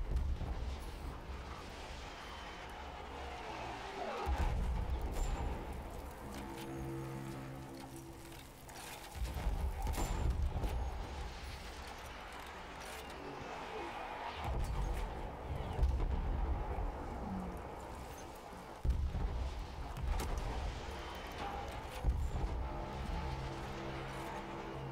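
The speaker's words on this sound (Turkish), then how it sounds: "Bombalar yağdırıyorlar adamlar üstüme ya." Bombs exploding in a Battlefield 1 battle, a series of heavy, booming blasts about every five seconds over a continuous rumble of combat, with no talking.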